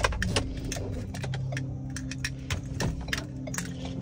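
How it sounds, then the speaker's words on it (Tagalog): Keys jangle and clink close by in quick, bright bursts while a low engine hum from an 800 kg pickup truck runs underneath, with no voices. "Patay ko nga muna makina."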